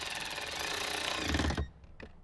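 Screws being tightened into a plastic dash kit on a Jeep Wrangler JK, with a steady, dense mechanical whirring like a power driver that runs loud for about a second and a half, then cuts off, followed by a couple of brief faint clicks.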